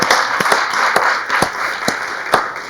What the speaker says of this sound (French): On va t'applaudir très fort